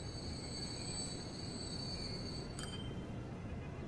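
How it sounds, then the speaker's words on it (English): A train loading at a station in the game Transport Fever, heard as a steady, continuous rail hum with a sustained high tone and a brief metallic squeal partway through, with no talk. "So this train's gonna load in here."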